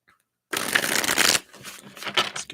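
Cards are riffled and shuffled close up, a crisp rapid flutter followed by softer sliding and tapping as the deck is squared.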